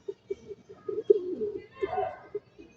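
Domestic pigeons coo close by in soft, repeated low hoots, a series of short calls and rolling coos at an uneven rhythm, with faint background chatter.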